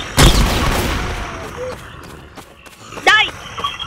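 Gunfire in a zombie video game: a sharp, loud shot at the start decays away, followed by a second burst later, heard up close among other game noises and a speaking voice.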